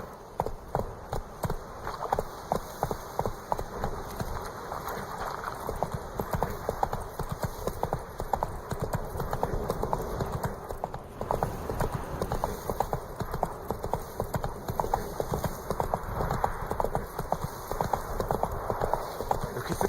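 Roach, a horse in the video game The Witcher 3, gallops in a steady, fast clip-clop of hooves that runs the whole time, with a faint whinny now and then over a continuous game ambience.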